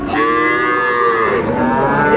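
A Sahiwal bull calf at a cattle market moos loudly and close in one long drawn-out call, with no talking.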